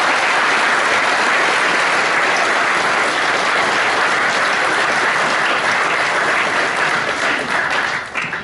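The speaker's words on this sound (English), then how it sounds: "Round of applause for those students, please." A crowd at a Year 13 graduation ceremony gives dense, steady applause for the graduating students, loud and unbroken throughout before it starts to taper at the very end.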